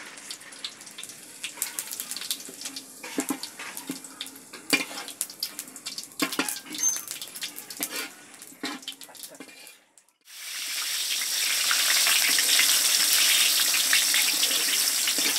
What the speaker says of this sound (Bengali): তেজপাতাটাও দিয়ে দিলাম। একটু জিরে দিয়ে দিই।